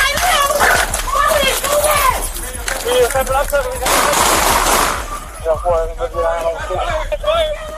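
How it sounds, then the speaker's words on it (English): Police open fire on a suspect in a tense outdoor scene, with loud sharp bangs among shouting and overlapping voices, the talk continuing throughout. "Shots fired."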